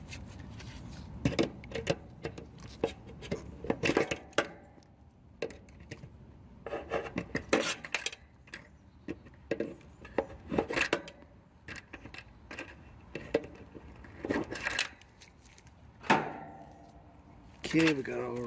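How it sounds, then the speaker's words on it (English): Quiet, irregular metallic clicks and taps as wires are pulled off an air conditioner capacitor during a no-cooling service call, scattered at close range. "So we'll pull our wires off and check the cap."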